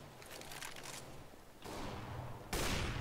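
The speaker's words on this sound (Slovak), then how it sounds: "No zatiaľ 2 výstrely, 2 killy." Gunfire in an online shooter match, a few rapid bursts of shots against steady game background noise, growing louder and denser toward the end with no talk over it.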